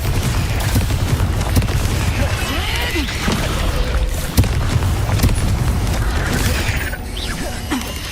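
Fire and explosive spell blasts, Confringo and Bombarda, cast in the Hogwarts Legacy video game: a dense, loud stream of booms, crashes and bursts that continues without pause for the whole stretch.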